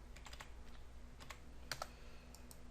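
Someone types a short command on a computer keyboard in quick, light clusters of keystrokes, with a couple of sharper taps near the end, quiet and close against a faint steady hum.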